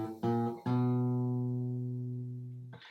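A few fingerpicked acoustic guitar notes alternating fingers and thumb, the intro of a song, then a sustained chord ringing out and slowly decaying, played alone and fairly quiet.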